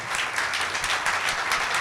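Worship congregation clapping hands together in praise during a Sunday church service, a dense, steady wash of many claps filling the space without a break.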